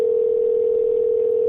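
A telephone dial tone holds one steady, loud, unbroken pitch throughout, heard alone with no voices.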